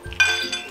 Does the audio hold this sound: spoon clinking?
yes